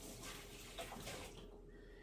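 Tap water runs steadily over raw chicken breasts being rinsed in a kitchen sink, a soft continuous splashing and trickling at low level with no talk.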